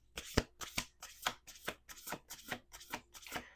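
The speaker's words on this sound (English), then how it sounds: "We're going to do 2 more shuffles." Playing cards are riffle-shuffled in a quick series of about eight crisp, close bursts, each a short flurry of snapping card edges with brief pauses between.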